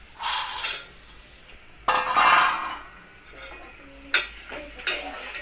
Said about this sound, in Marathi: आता मी टाकत आहे वटाणे आणि शेंगदाणे